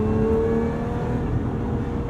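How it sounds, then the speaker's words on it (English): A supercharged V6 in a manual Lotus Emira revs up, a loud, sustained engine roar with a steady tonal whine riding over it. "linear power delivery and a little bit of supercharger whine"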